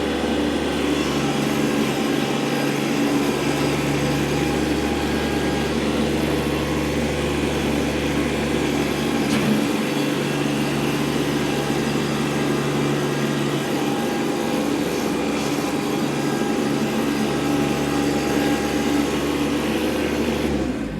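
A 2016 Kubota B2301 23 HP compact diesel tractor engine drones continuously at a constant pitch, loud and close, with no voices over it.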